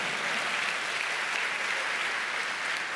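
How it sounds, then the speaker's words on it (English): Steady, dense applause from a large audience at a hacker congress talk about cable modems, a continuous wash of many hands clapping throughout with no voices over it. "go ahead, clap"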